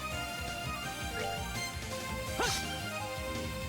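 A dog barks and yips in the video game Trails in the Sky the 3rd, a few short barks over steady looping game music, with one sharper yelp standing out partway through.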